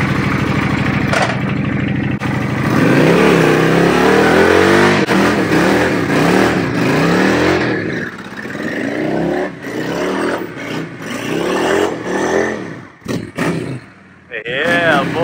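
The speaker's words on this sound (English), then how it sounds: "Honda Shadow 750 Aero Burnout." A Honda Shadow 750 Aero motorcycle on a bald rear tire does a burnout, its engine revving loud and rough with rising and falling pitch, tire and exhaust noise dropping off toward the end.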